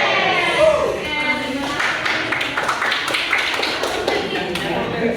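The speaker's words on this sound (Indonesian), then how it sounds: "mari kita tepuk tangan dulu untuk sukses" Students in an Indonesian university classroom clap together as a group after the lecturer prompts them, a dense patter of handclaps running throughout, with voices chanting over it.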